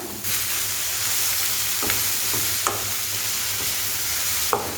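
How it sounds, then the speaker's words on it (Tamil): Manathakkali greens and onions sautéing in a pan, a continuous close sizzle punctuated by a few sharp spatula scrapes and taps, with no talking. "கீரை சேர்த்து நல்லா வதக்கிட்டு அதுக்கப்புறம் உப்பு சேர்த்துக்கோங்க."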